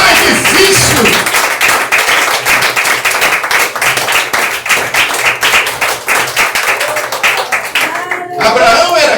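Inside a church service, a congregation claps in a fast, steady rhythm, loud and close, with voices calling out over the beat before it breaks off near the end.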